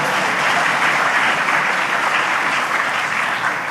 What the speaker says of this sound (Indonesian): Jadi, silakan tepuk tangan.